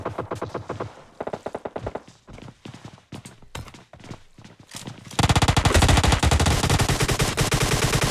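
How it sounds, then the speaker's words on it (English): Gunfire breaks out from all directions in a battle royale video game match. Rapid automatic bursts start at once, then a loud continuous roar of overlapping fire takes over for the last few seconds, dense and close. "And there's firing going off from all directions here."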